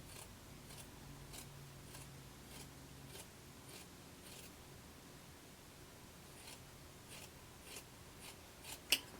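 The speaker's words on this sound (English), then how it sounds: "we're going to trim this and then clip our curves." Scissors trimming a fabric seam allowance down and clipping curves, a series of faint, quiet snips spread across the stretch with soft rustling between, ending in a sharper close cut.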